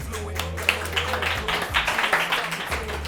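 A few people clap close by in scattered, uneven bursts while someone talks over them, with the claps rising and falling across the moment.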